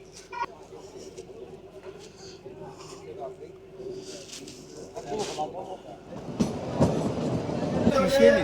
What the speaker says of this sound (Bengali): টয় ট্রেনটি এসে দাঁড়ালো বারগ স্টেশনে